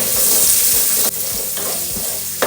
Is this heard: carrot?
yes